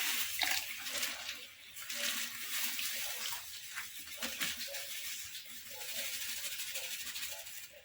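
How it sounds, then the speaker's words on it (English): Homemade bleach mixture being stirred in water, with industrial salt and caustic soda among the ingredients, gives a steady watery swishing and sloshing that runs the whole time, close and moderately loud, with no talk over it. "we are adding all the ingredients to the water slowly, and then we just stir"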